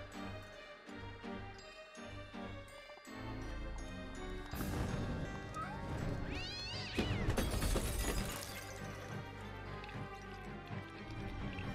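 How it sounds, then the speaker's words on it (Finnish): A cat meows in American McGee's Alice, layered over game music with tinkling chimes and shimmering effects, the meows rising through a busy, continuous soundtrack. "Perkeleen kissa."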